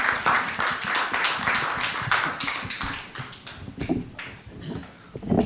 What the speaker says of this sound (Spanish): Y aplauso para ustedes mismos y para ellos.